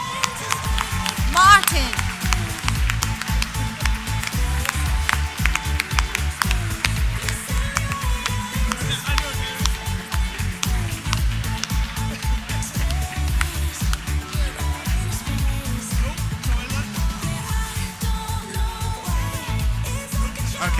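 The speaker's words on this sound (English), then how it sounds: "let's keep that round of applause going while he makes his way to the stage." A crowd at an awards ceremony applauds continuously for a winner, dense clapping holding steady and fairly close, with a voice briefly heard over it.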